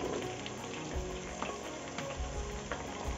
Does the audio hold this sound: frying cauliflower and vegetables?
yes